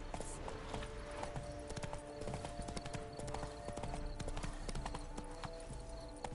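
Horse hooves clip-clop steadily in a riding scene from The Witcher 3 video game, with a continuous gait rhythm over game ambience and faint voices.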